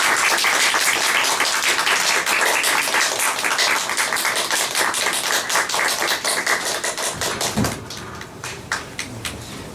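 Steady applause fills a church service in a congregation, dense broadband clapping that holds for about seven seconds and then thins out and fades, with faint voices underneath near the end.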